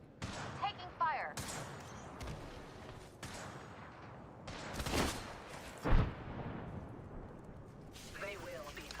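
Scattered gunfire in Apex Legends, a handful of sharp shots and bursts with one heavier boom, mostly mid-distance and fairly quiet, under frequent talking.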